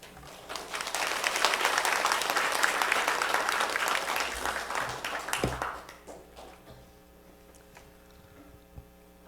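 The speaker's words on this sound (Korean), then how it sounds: "환영의 박수로 환영하겠습니다." A church congregation claps in warm welcome for the pastor during a Christmas-season service, a dense round of applause that fades out after several seconds, leaving a low hum and a few scattered sounds.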